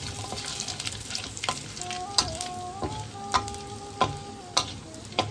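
Bay leaves, dried red chillies, cumin and whole garam masala sizzle in hot ghee mixed with oil in a kadai, a close, steady frying hiss broken by sharp intermittent pops and clicks, with no voices.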